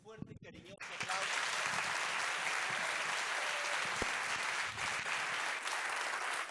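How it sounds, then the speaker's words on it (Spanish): An audience breaks into sustained, dense applause at the end of a biotechnology seminar, starting abruptly after a second and holding steady and loud to the end. "Invito a que le demos un fuerte y cariñoso aplauso."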